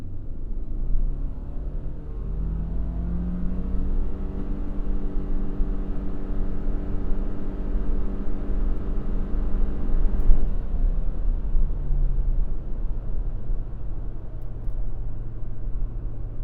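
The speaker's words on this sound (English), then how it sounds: "So real world scenario, acceleration from a stop." Engine of a 2026 Subaru Forester Wilderness with a naturally aspirated engine pulling away from a complete stop, a steady low rumble that rises in pitch through the gears over road noise, heard from inside the cabin.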